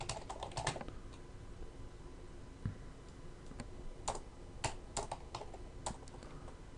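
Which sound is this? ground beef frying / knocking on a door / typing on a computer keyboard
typing on a computer keyboard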